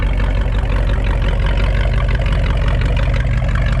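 A 1967 Ford F100 pickup truck engine idles steadily with a deep, rumbling low throb, loud and continuous throughout.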